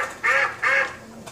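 Two loud, nasal duck quacks in quick succession are followed by a fainter third call, played as a sound effect during a shooter game session.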